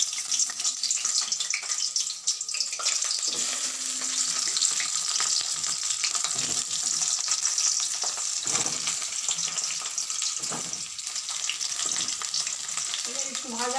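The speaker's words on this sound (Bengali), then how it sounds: "তেলটা গরম হয়ে গেছে, এবার পটলটা ছেড়ে দিচ্ছি।" Pieces of pointed gourd (potol) fry in hot oil, a close, continuous crackling sizzle with occasional stirring scrapes and no talking.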